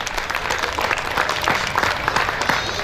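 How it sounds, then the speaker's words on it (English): Audience applause at an outdoor Canada Day event in Barrhaven, Ottawa, a steady dense clapping from a crowd that holds at an even level throughout with faint voices mixed in. "give a big round of applause to Jan Harder for making this happen."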